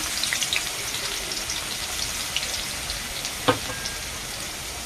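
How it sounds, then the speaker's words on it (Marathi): Garlic frying in oil in a pan gives a steady, even sizzle with a faint crackle and one sharper pop near the end, heard close up with no voices. "कडेनं तेल वतून घेते लसूण टाकून घेते"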